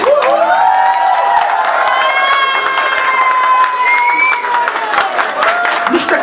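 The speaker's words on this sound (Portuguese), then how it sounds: "Eu queria uma salva de palmas." Concert audience at a live show on the Deck Arujá stage claps and cheers loudly, a dense continuous wash of applause with whoops and shouts held steady for several seconds before easing slightly near the end.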